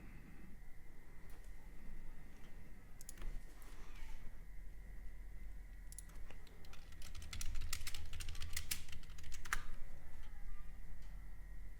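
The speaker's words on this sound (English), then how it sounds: "That typing you hear is just me making alerts to the live chat room that I offer." Rapid typing on a computer keyboard, steady clusters of light clicks close to the mic with a louder burst of keystrokes near the end, over a constant low room hum.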